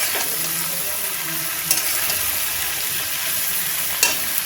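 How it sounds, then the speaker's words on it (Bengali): Malabar spinach (pui shak) frying in a pan on low gas, a steady close sizzle hissing evenly throughout, with a couple of faint clicks of stirring and no voices. "এবারে গ্যাস কম করে ভালো করে ভেজে নেব"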